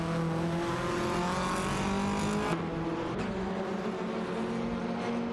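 Engines of AI-driven Audi RS3 TCR and Alfa Romeo Giulietta TCR touring cars in a racing video game hum and whine steadily with shifting pitch, a brief break in the tone partway through, no talking.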